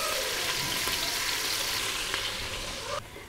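Onion fries golden in a pan with ginger, garlic and green chili paste, a steady close sizzle with light stirring, dropping away abruptly near the end.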